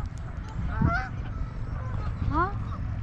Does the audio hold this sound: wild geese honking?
yes